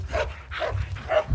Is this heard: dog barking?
yes